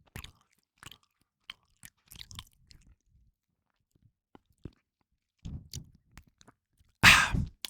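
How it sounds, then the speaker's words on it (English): Mike and Ike chewy candy being chewed close to a microphone, with sparse soft clicks and wet smacks scattered irregularly and a louder burst of chewing noise near the end. "I'm just chewing on Mike and Ike."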